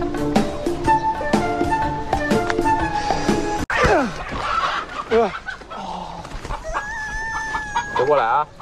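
Chickens cluck and a rooster crows inside a farm coop, with busy overlapping calls that come fairly close and loud, and people talk among the birds.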